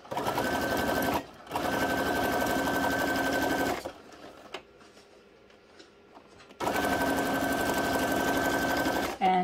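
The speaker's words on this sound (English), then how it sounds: "now you can sew right over top of the same stitch, or you can make two lines" A sewing machine stitching a paper journal card made from punch negatives runs in steady droning bursts, stopping briefly twice, with quiet handling sounds in the pause, loud and close.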